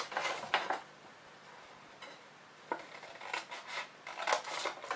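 Scissors snipping down score lines in a paper box, with quiet, crisp clusters of cuts separated by pauses, near but faint.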